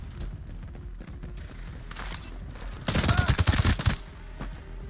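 Rapid bursts of gunfire in the tactical shooter Ghost Recon Breakpoint, a dense volley of close, loud shots that swells to a peak partway through over a lower rumble of quieter firing.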